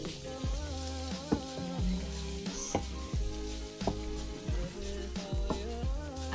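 Broccoli cooking in a pan for a simple steak and broccoli dinner, giving a steady sizzle with recurring stirring clatters throughout, heard close up under background music.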